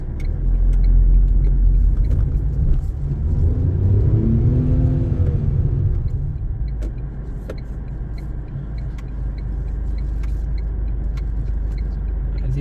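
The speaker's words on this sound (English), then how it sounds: "now we are on a hill and I really have to accelerate a lot for me to go up this." A 2024 Tata Tiago facelift climbs a hill under hard acceleration, its engine droning and rising in a low rumble heard from inside the cabin, with steady road noise and small clicks.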